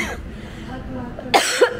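Two short, sharp coughs close by near the end at a zoo, following a quiet stretch with faint background sound.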